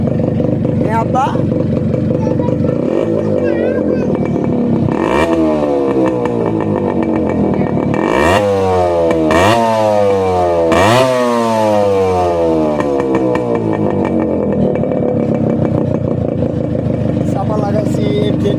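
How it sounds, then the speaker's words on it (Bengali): A custom-modified Yamaha RX 100 two-stroke motorcycle revs up close and loud, its engine climbing and dropping in several sharp, repeated throttle blips over a steady running note. "বাইকটা আমার নিজ হাতে সাজানো, লাইটিং থেকে শুরু করে ইঞ্জিনের যাবতীয় কাজ পুরো গাড়িটাই"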